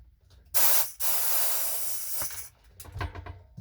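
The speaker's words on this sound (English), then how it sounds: "I have a little Senko half-gallon finish nail air compressor, you know, fully charged up." A half-gallon Senko finish-nail air compressor lets out two sharp bursts of hissing air, one brief and one sustained for about a second and a half, followed by quiet handling noises.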